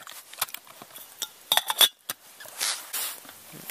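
A metal coffee pot set down over a backpacking campfire gives a run of light metallic clinks and clanks, closest in the middle, then a short scrape.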